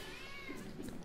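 A cat meows twice in the room, fairly faint, over a busy background of video game music from Teslagrad, with no talk.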